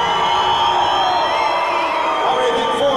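A crowd at a boxing event in San Angelo, Texas, cheers and whoops together in a loud, sustained roar that fills the room, with shouts and whistles blending into one continuous wall of noise.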